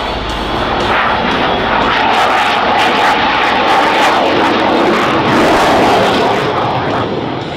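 Leonardo M346 Master jet trainer-fighter of the Italian Air Force at the Sanicole Airshow 2022, its engine roaring steadily and loud throughout, a broad continuous jet rush with no speech over it.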